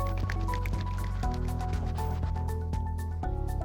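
A squirt of curly-hair styling product is worked between wet hands, producing close, wet squishing and dripping sounds with a low steady hum underneath.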